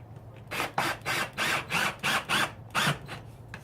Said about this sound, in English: grab your drill or your Phillips head and just put everything back in